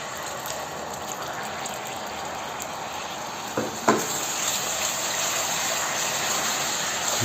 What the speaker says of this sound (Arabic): هسه نضيف الدبس